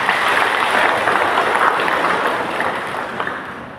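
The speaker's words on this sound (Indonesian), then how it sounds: "Aplaus untuk kita semua." An audience applauding at a school gathering for SD Panca Setya 2 in Sintang, West Kalimantan, with loud, dense, sustained clapping that eases slightly toward the end.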